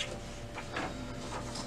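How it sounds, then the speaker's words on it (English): An HP Officejet 6978 inkjet printer prints a supply status page, giving a faint, steady mechanical whir broken by soft periodic carriage swishes and clicks. "So that's the page we want to print for this specific information."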